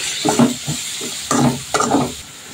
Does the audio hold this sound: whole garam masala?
yes